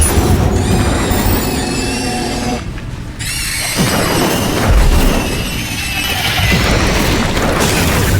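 Fiery Incendio spell blasts in Hogwarts Legacy, loud roaring bursts with booming impacts and shrill squealing effects, a brief lull midway before the dense crackling flames resume under game music.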